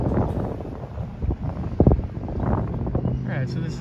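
Wind buffets the microphone on top of a temple stupa at Wat Prayun in Bangkok. Low rumbling gusts come and go through a few seconds, with a voice heard alongside.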